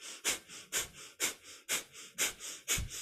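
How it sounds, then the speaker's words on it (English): Breath of Fire in kundalini yoga, rapid rhythmic panting breaths pushed out through the nose, about a dozen sharp close exhales in an even pumping rhythm, heard alone with no talk. "It's your panting breath through the nose."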